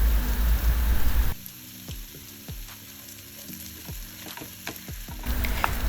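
Diced vegetables, meat and garlic searing in a hot pan, a steady crackling sizzle with bursts of spatter and stirring, loud and close throughout.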